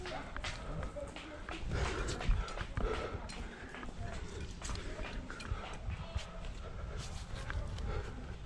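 A dog at the Peilstein climbing crag beneath the Große Teufelsbadstubenwand, heard as scattered short sounds within a constant outdoor noise of wind and rustling. Other close sounds are mixed in with it.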